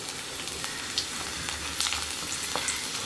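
Garlic and curry leaves sauté in oil with a dense, continuous crackling sizzle, close and steady, dotted with small sharp pops.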